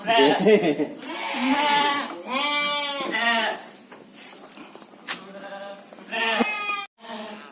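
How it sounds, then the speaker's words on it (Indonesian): Young goats on a livestock farm bleat repeatedly, several calls overlapping in close, loud bursts with brief pauses between them. "itu tadi ya Lur, itu tadi kita lihat kambingnya. Kambing itu masih kecil-kecil"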